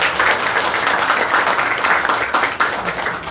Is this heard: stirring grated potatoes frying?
no